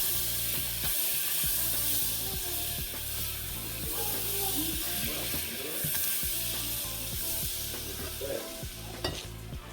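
Chicken wings sizzle and fry steadily in hot oil, with a constant bright hiss and occasional stirring scrapes and clinks, close and continuous throughout.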